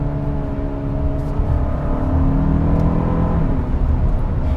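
A 2021 Hyundai Santa Fe Limited 2.5T with a dual-clutch transmission pulls hard in third gear after a downshift, its engine note loud, close and steady, climbing in pitch under acceleration over road and wind noise.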